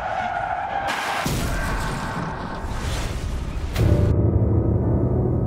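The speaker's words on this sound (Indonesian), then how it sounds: "Dan terjadilah kecelakaan itu hingga membuat mobil Yunsu masuk ke dalam jurang di sebuah hutan." A film sound effect of a car skidding in a crash that sends it into a ravine in a forest: loud, sustained tire screech and rushing roar, shifting abruptly midway into a heavier, rumbling noise.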